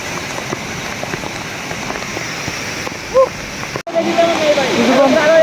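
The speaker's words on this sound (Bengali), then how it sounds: "কিছুক্ষণ আগের থেকে ঝর্ণা আরও অনেক ভয়ঙ্কর হয়ে গিয়েছে" Roaring water at Khoiyachara waterfall in Sitakunda pours as a steady, loud broadband rush, with a brief tonal sound near the middle and a short cut before the rush continues and grows brighter.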